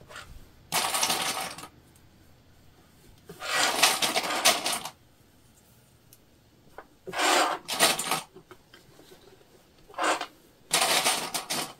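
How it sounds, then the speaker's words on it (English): Plastic sewing clips being snapped onto layered fabric pieces of a zipper bag panel. Each clip gives a short, crisp clatter, heard in separate bursts with quiet pauses between them and no talking. "we're just clipping all the way around."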